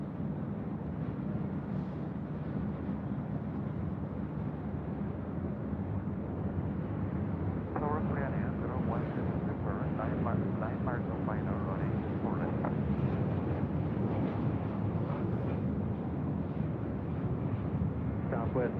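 A Korean Air airliner lands on runway 24 left at LAX, a steady distant jet roar heard from afar under radio chatter and nearby talk.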